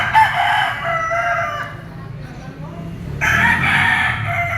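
Golden Boy Sweater gamefowl rooster crowing at a Padre Garcia, Batangas market stall, a loud nearby call at the start and another long crow near the end, with busy market murmur and voices underneath.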